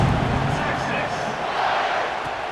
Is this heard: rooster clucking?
no